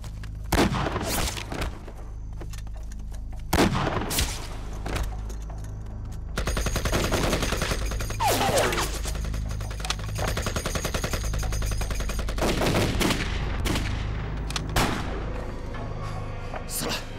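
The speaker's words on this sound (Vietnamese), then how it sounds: "Anh ta vừa nổ súng, chúng ta bắn ngay." Gunfire from a shootout in a wartime anti-Japanese action drama: repeated sharp shots and rapid automatic bursts with booming impacts, loud and close, continuing in clusters throughout without speech.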